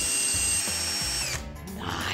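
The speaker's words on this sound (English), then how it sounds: "When drilling a hole in the wall, all that dust can get all over the place." A power drill bores a hole into a household wall, a loud close whirring that rises and steadies with brief pitch dips as the bit bites.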